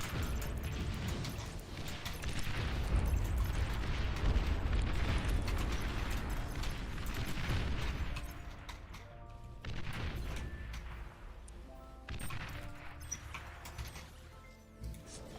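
In the strategy game Beyond All Reason, a dense stretch of overlapping explosions rolls on as torpedo launchers are hit, loud booms and crackling bursts blending into a steady roar that thins out toward the end.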